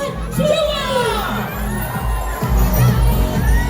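A huge crowd of around 100,000 people packed along CM Recto street at a birthday gathering, cheering and shouting in a loud, continuous roar with rising whoops, close and dense.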